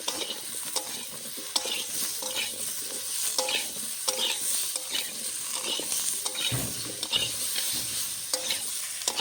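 Potato, brinjal and flat-bean pieces fry with turmeric and salt, crackling in oil under frequent scraping stirs, steady and close, with no voices.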